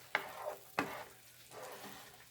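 Sliced onions sautéing in a pan for Salisbury steak sloppy joes, with two sharp scraping strokes of a spoon against the pan amid a quiet, soft sizzle, no voices.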